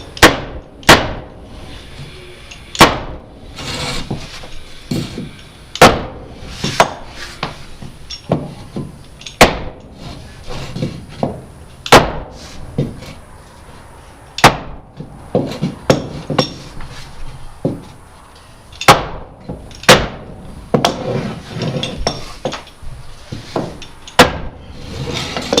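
A hammer drives down raised boards on a wooden rough subfloor between floors. It lands as loud, sharp, irregular thuds spaced a second or two apart, with lighter knocks in between and no talking.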